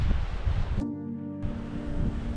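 Strong wind roars and buffets the microphone outdoors, loud and continuous for a couple of seconds, with a brief lull in the middle before the gusting returns.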